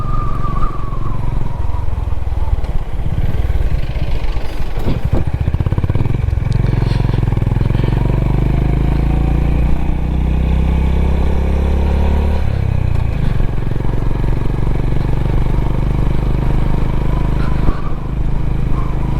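A motorbike rides along a road on a trip from Bengaluru to Ooty, with a loud, steady engine drone and wind rumble close to the rider. A faint scrape and clatter briefly cut through.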